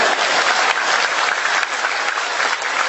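An audience at a religious talk breaks into dense, loud applause that carries on steadily throughout with no pause.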